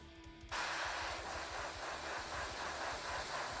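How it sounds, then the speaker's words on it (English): Airbrush blowing a steady stream of air to dry primer on a painted miniature model, a continuous broad hiss that starts abruptly and holds even and close with no pauses. "Did you know you can dry your primer with your airbrush a little bit?"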